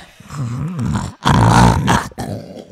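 A voice imitates loud snoring, giving a gravelly, rattling inhale followed by a longer, harsher snore, both close and forceful, with brief gaps between them.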